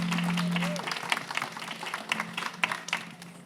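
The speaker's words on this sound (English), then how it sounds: "Round of applause." An audience at a marquee talk event applauds briefly, with a brief spoken phrase near the start, then a short burst of scattered clapping.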